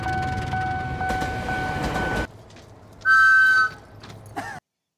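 A freight train in a rail yard, heard as a loud rumbling, clattering passage that cuts off abruptly, followed by a quieter low hum, a brief sharp whistle-like tone and a short squeal.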